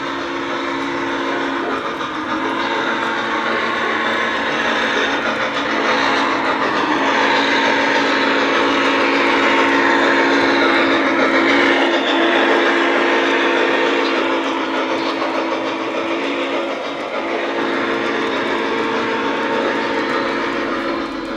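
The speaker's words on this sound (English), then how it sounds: "With its low haunting C&O whistle, it screams East Coast steam all the way." An O gauge model C&O steam locomotive chugs steadily with a low, sustained whistle sounding throughout, fairly loud and continuous with no talking.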